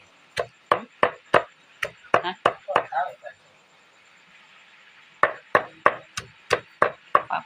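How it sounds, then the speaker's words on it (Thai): Knife chopping garlic on a board for larb: sharp, close, rhythmic chops in two quick bursts separated by a short pause, with no talk. "สับสับกระเทียม"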